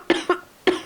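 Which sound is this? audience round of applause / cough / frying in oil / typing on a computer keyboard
cough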